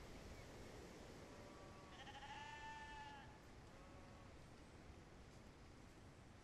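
Lambs bleat faintly a few times in the distance over a steady outdoor hiss, the calls thin and wavering.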